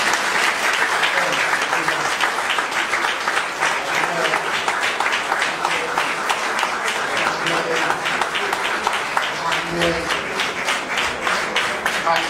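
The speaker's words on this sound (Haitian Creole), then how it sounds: "On applaudit aussi le Père." A church congregation applauds a priest, with sustained, dense clapping from a large crowd that fills the room for the whole stretch, while voices murmur faintly underneath.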